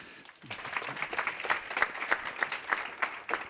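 Audience applause greets a speaker being introduced at a business talk, a steady patter of many hands clapping at moderate distance, alone without talk.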